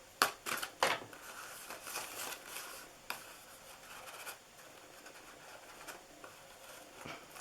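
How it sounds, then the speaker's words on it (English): Scissors cut ribbon in a few quiet, crisp snips close by, mostly near the start, with sparse softer clicks and rustles after and no talk. "I'm going to cut these shorter."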